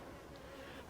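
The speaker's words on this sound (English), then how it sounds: "Got some bees here wondering why I am sitting here" Bees buzz around an open beehive during an inspection, a steady close hum with a few louder passes near the microphone.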